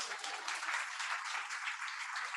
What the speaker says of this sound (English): another round of applause for Olivia